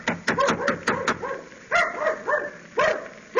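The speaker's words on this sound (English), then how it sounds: "that sounds like Mickey barking" A dog barks in quick sharp bursts in an old Christmas film scene, several barks in a row, then a pause and a few more, fairly close and loud.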